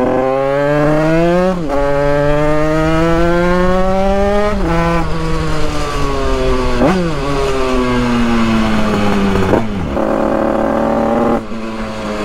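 A Yamaha DT 100cc two-stroke motorcycle revs hard and loud up close, climbing in pitch through several gears with sharp drops at each shift, sustained with no talking.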